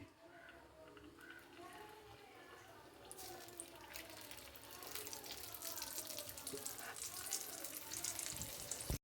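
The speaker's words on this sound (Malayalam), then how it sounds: "ഇനി നമുക്ക് ഉണ്ണിയപ്പം ഓരോന്നായി ചുട്ടെടുക്കാം" Unniyappam fry in coconut oil over a medium flame, a steady soft sizzle that swells into a louder, denser bubbling hiss partway through.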